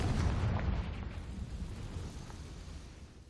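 A Confringo fire spell bursts in Hogwarts Legacy on Switch 2, a deep booming blast that rolls off into a low rumbling tail, with no speech over it.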